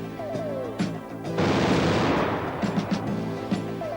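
Ammunition test firing in an enclosed firing tunnel at an ammunition works, heard as a sudden sustained roar of rapid gunfire that lasts a couple of seconds, then trails off into scattered reports and echoes.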